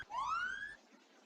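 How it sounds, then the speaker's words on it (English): An electronic fire alarm sounder gives one short, rising whooping tone that fades after under a second, followed by a faint background hiss. "It is these devices which sound the alarm when triggered."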